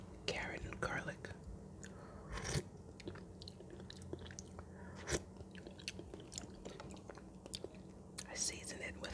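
Close, quiet chewing and soft crunchy bites of homemade split pea soup with carrot and garlic, in irregular mouthfuls, with whispering in between.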